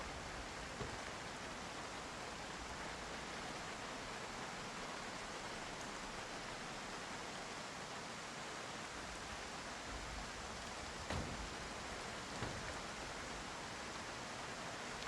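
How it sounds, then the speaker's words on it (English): Steady rain falls throughout in the Project Zomboid survival game, a dense continuous hiss with a few faint soft knocks, with no speech. "It just keeps raining."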